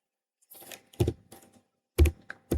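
Keystrokes on a computer keyboard as commands are entered, arriving in short irregular clusters of sharp clicks separated by brief pauses, close and clear with no talking.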